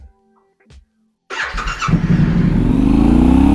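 A Yamaha Tenere 700 with a one-finger clutch upgrade, heard after a second of near silence with small clicks as the engine bursts into life and then roars steadily as it pulls away on a test ride, loud and close.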